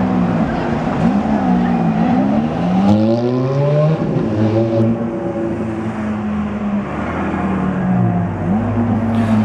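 A car drives past close by, recorded on a Canon Powershot Elph 300 HS camera: a loud engine hum rises and falls in pitch through several gear changes over about nine seconds, with steady road and wind noise underneath.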